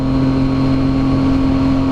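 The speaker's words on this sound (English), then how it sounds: "The exhaust noise. I don't know if you guys have ever heard a triple in person" A 2016 Yamaha FZ-09 three-cylinder motorcycle exhaust holds a steady, even drone at constant engine speed, close and loud, with no revving and no voices.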